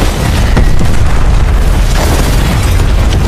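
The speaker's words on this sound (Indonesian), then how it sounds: "Pito meledak dengan mobilnya." A car explodes in a war action film, a loud, dense boom with sustained rumbling roar and crackling debris filling the whole few seconds before cutting off abruptly.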